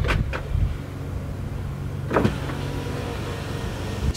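A car's electric power windows close with a steady motor whine, punctuated by a few short clicks and a thunk near the start and middle, recorded close up without speech.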